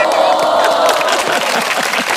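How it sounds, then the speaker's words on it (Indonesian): A dense crowd applauds and cheers at a casual podcast gathering welcoming a local community leader, with loud sustained clapping mixed with whoops and background voices throughout. "Tepuk tangan dong."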